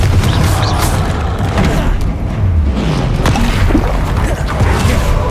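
Confringo spell explosions and combat effects in the video game Hogwarts Legacy: loud, dense booms and crashing blasts at close range over a continuous rumbling game soundscape, with no pause.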